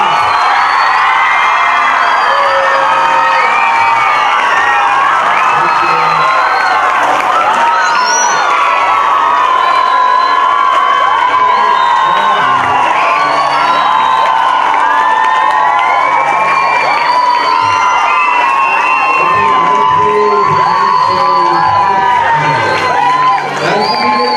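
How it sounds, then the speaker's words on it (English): Loud, continuous crowd cheering with shouts, whoops and children's excited voices, with some clapping, filling the whole stretch at an international performing arts exchange event. "Let's all give them a big round of applause."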